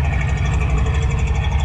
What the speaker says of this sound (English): you can see it's running a lot smoother. Got a nice firm exhaust note,